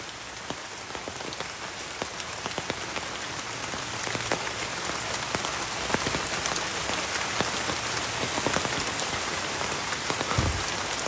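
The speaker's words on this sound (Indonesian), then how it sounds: "Ini hujan men." Steady, dense rain pattering on a hard surface on Mount Salak, a constant hiss of many drops close by, with no voices.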